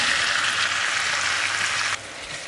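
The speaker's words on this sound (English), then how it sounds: "We're gonna add some red onion" Red onion frying in an iron skillet gives a steady, bright sizzle that drops suddenly in loudness near the end. No voices are heard.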